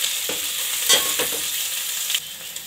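Soaked soya chunks fry with onions in a pan, a steady bright sizzle broken by a few soft scraping stirs, close and fairly loud, with no voices.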